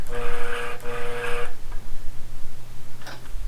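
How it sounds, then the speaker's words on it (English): A longarm quilting machine rolls forward and back along its frame, giving a loud, droning mechanical whine for about a second and a half before it stops. Faint knocks and a short burst of noise follow. "Now I'm free to move my machine forward and back."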